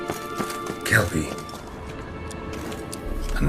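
Rhythmic hoof clops from The Witcher 3: Wild Hunt patter at a steady gait under a voice, with scattered game sound effects in the background.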